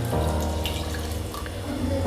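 Rinse water from a washed mixer jar is poured into a cooking pot of cassava kootu, making a brief, soft splashing trickle close by with no talk.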